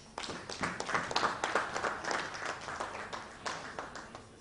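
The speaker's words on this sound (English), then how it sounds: "If you could applaud, please." Audience at an education summit applauds a university vice chancellor, a modest, uneven scatter of claps from a smallish crowd, fairly quiet and distinct, rising and falling without speech.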